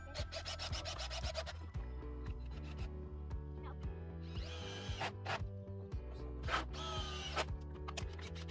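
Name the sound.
power drill driving screws into chicken coop frame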